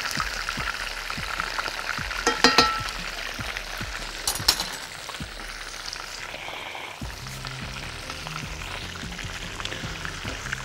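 Chicken wings fry in hot oil, a dense, steady crackling sizzle close by with sharp pops and bursts of spatter, continuing evenly without talk.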